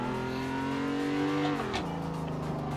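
A car drifts through a turn in a racing simulator video game, its engine droning steadily then dropping in pitch as it shifts, a continuous close mechanical tone.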